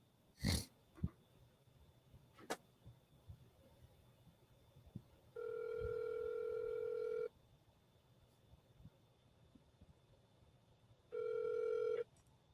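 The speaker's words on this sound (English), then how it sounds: "Let's see if we can get him on the phone." A phone call is placed: a few short tap sounds as the number is dialled, then two long ringback tones separated by a pause of several seconds, quiet and electronic.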